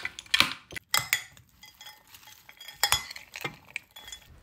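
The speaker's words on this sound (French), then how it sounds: "Mélangez bien tous ces ingrédients ensemble." Chopped potatoes and chicken are stirred together in a dish, with a handful of sharp clinks of a utensil against the bowl scattered between quieter scraping and shuffling sounds, close up and without voices.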